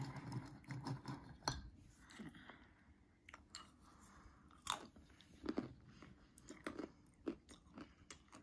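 Blue Diamond Carolina Reaper almonds crunched in the mouth, close crisp bites and chewing in irregular bursts, loud near the microphone with short quiet gaps.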